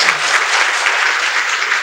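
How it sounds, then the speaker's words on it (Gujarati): An audience at a talk cheering a speaker with strong, sustained applause, dense and loud from start to finish with no voice on top. "આવા જયદીપભાઈને જોરદાર તાળીથી વધાવીએ"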